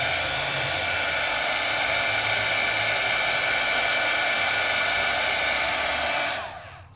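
A heat tool blows hot air over freshly applied Jacquard ink, a loud, steady whooshing roar that runs unbroken for several seconds before being switched off and fading at the end.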